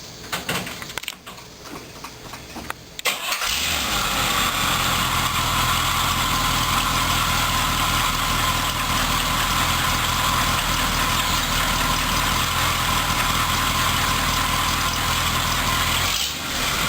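A 1976 Corvette engine cranks over and catches after a few seconds, then settles into a steady, loud, even idle that runs on alone until a brief dip near the end.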